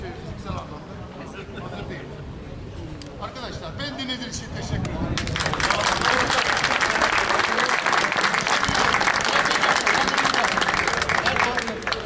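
A room of attendees at a goalkeeper-coaching seminar breaks into loud, sustained applause about five seconds in. Before that, someone talks amid scattered movement noises, and the clapping then fills the rest of the stretch.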